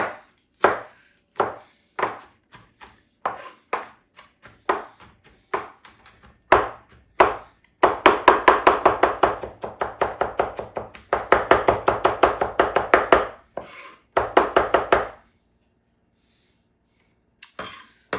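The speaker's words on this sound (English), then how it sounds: "we're going to take those cloves and just kind of give them a chop, and then we'll just use our blade and give those onions" A knife chopping and mincing garlic cloves and onions on a board: spaced single chops at first, then rapid rhythmic bursts of close, sharp cuts, ending in silence.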